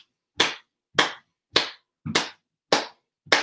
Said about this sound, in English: clapping our hands like this